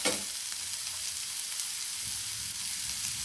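Onions sizzle steadily in a frying pan as salt goes in and they are stirred, giving a loud, continuous hiss of frying with faint scrapes underneath.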